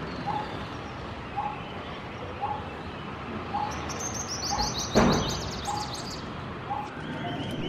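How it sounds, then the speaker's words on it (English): A coppersmith barbet perched in a eucalyptus tree near a house gives a slow, evenly spaced series of hollow tuk notes, about one per second, moderately distant, with a faint higher chirp from another bird midway. "At the crack of dawn, he sits on the eucalyptus tree close to our house and the tuk-tuk sound is very"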